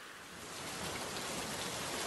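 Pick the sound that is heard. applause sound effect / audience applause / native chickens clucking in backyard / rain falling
rain falling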